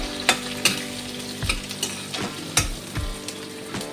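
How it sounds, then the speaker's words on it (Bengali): Chopped onion hitting hot oil with cumin and fenugreek seeds, a close sizzle broken by several sharp clinks and scrapes as a spoon stirs the pan, with no voices. "এরপরে কুচনো পেঁয়াজ দিয়ে দিলাম।"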